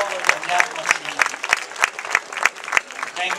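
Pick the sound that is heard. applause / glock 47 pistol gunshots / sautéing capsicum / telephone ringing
applause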